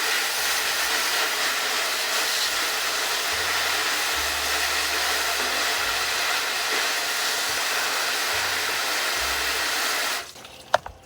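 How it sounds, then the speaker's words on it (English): A garden hose sprays water onto a stainless steel tray of freshly harvested root vegetables, a steady close rushing hiss that runs for about ten seconds, then cuts off abruptly, followed by a couple of faint clunks. "I'm gonna hose these off"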